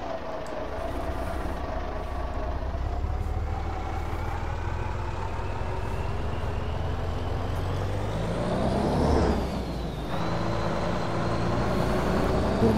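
A truck pulling a trailer runs with a steady, loud, low engine drone that climbs in pitch as it pulls away, broken near the end by a brief hiss of the air brakes, with no talking.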